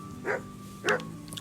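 A dog in the medieval game Kingdom Come: Deliverance gives two short, close barks about half a second apart over a quiet background hum.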